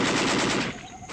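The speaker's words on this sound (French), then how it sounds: "Ces coups de feu, ces rafales qui trouent le silence de la jungle" Machine-gun bursts and gunfire crack through a jungle, dense and loud for most of the moment before fading out, with no voices.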